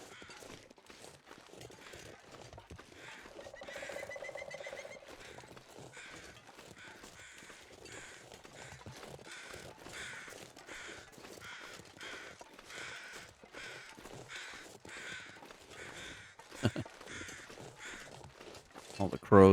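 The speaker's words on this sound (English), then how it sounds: "All the crows are excited about what we left them behind." Crows caw several times in the snowy wilderness of the game The Long Dark, mid-distance and moderately loud, over steady crunching footsteps and some talking.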